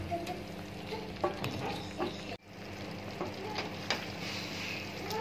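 Masala and kasuri methi frying in a pan for chicken malai handi, a soft steady sizzle with occasional scrapes of a stirring spoon, fairly quiet and close.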